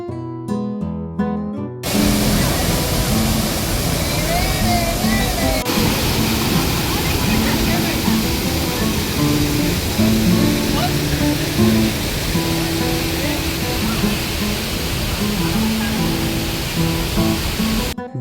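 Bhetia waterfall pouring down in a loud, steady broadband roar that runs continuously after a short burst of other sound at the start.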